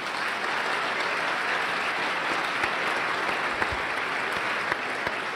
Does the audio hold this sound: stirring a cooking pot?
no